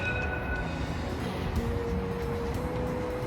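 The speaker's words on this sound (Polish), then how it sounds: "Ale to nie jest mój tramwaj, ja jadę w przeciwną stronę." A tram pulling in at a stop in Heraklion, heard as a steady rumbling rail drone with faint tonal whine and a brief clank, sustained throughout at moderate volume with no talking.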